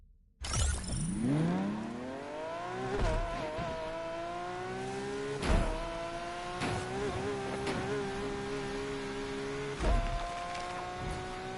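A car races in the video game Need for Speed Unbound on PS5. The engine launches and revs high, rises through several gear shifts with brief dips between them, and the whine stays loud and continuous.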